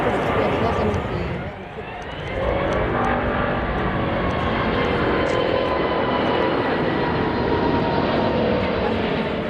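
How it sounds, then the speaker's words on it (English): An Airbus A380 on a test flight approach at Leipzig-Halle Airport, its engines giving a loud, continuous roar that dips briefly before swelling back, with a voice talking over it. "A thunderous roar of engines. An Airbus A380 circles back for another approach during a test flight"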